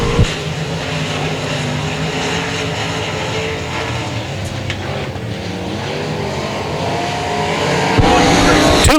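Race cars roar down the back straightaway of a dirt track during heat races at the 2016 Bryan Mize Memorial, their engines a loud, continuous drone that swells near the end.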